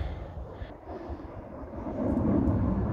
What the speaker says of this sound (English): There goes a training jet.